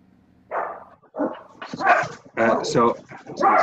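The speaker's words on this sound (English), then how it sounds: "Excuse my dogs." Several dogs bark and yip nearby in quick overlapping bursts, loud and close.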